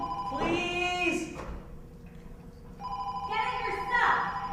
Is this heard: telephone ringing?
yes